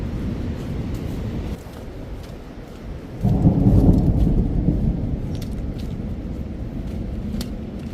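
Heavy rain hisses steadily on the Pindari Glacier trek in the Himalayas while a loud, low roll of thunder swells midway and fades slowly. No voices are heard.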